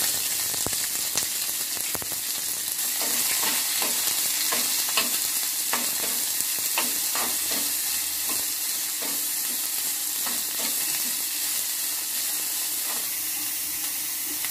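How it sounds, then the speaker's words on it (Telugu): Ivy gourd pieces frying with green chillies in a pan, giving a continuous close sizzle and hiss broken by repeated light stirring clicks throughout, no voices. "పచ్చిమిరపకాయలు కొద్దిగా వేగిన తర్వాత దొండకాయ ముక్కలు వేసుకోవాలి."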